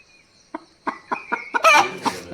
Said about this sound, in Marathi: अरे तिकडं हा कोंबडा बघा कसला हे फडफडतोय